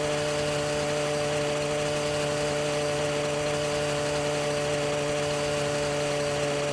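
Motorcycle engine held at full revs in the My Summer Car driving game, a steady harsh drone with strong fixed harmonic tones running unbroken throughout, fairly loud with no talk over it.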